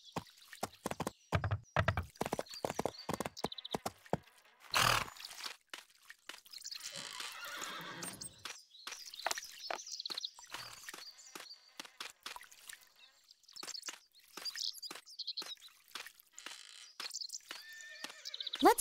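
Horse hooves clip-clopping and a whinny from the Barbie Horse Adventures: Mystery Ride game beside an old flour mill, with sharp hoof clicks, a drawn-out neigh, then irregular steps and small dripping sounds.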